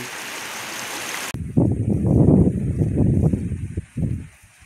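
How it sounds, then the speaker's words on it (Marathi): After a short hiss, rainwater rushes and gurgles close by, a turbulent stream flowing downhill that surges and then fades. "त्या पावसाचं पाणी सगळं वाहून खाली येत आहे आणि ह्या ओढ्यामध्ये रूपांतर होत आहे"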